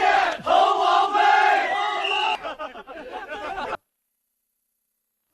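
A crowd of soldiers shouts and jeers together below a city wall, a loud, close chorus of voices that rises, breaks into ragged calls and cuts off into silence after about four seconds.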